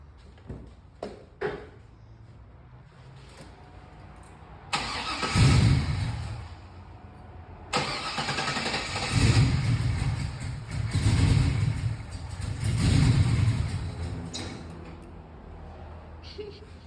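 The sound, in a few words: V8 car engine starting up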